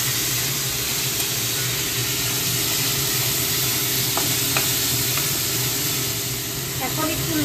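Chopped vegetables, cabbage and potato among them, frying in a pan after garlic was browned in oil: a steady, dense sizzle that runs through the whole stretch, with a few light scrapes of stirring near the end.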